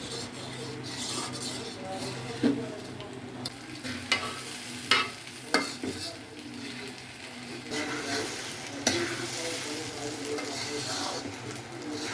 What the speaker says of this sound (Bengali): এখন চালের সাথে মশলাটা ভালোভাবে মাখায় নিতে হবে